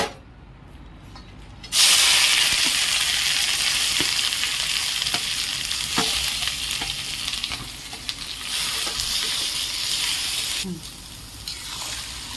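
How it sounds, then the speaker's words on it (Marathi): Ground masala for patodi being sautéed in hot oil in a kadai, a loud sizzle bursting in after a quiet start and holding steady with intermittent stirring scrapes, and a voice speaks over it. "आता हा मसाला सर्व परतून घेऊ हळूहळू करून"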